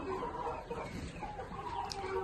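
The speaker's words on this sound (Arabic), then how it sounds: "ها هما الدجاجات ولا الفرارج" Chickens on a chicken farm cluck in a busy, continuous chorus of overlapping calls, close and fairly steady throughout, with no talking.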